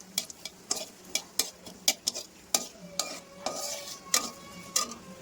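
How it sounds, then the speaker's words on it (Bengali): Dried red chillies fry in a pan for khichuri, with a steady sizzle broken by regular sharp clinks and scrapes of a spatula against metal, close and unaccompanied by talk. "আর ঝালের জন্য দিয়ে দিলাম শুকনো লঙ্কা এটাকে ভালো করে ভেজে নেবো"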